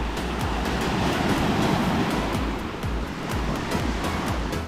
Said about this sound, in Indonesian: dan tentu saja laut.